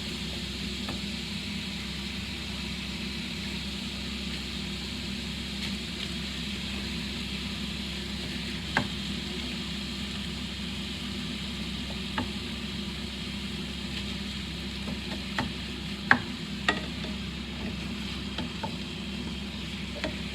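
Meat browning in a frying pan, a soft steady sizzle with a low hum underneath and a few faint clicks and scrapes of stirring, quiet and continuous with no talk.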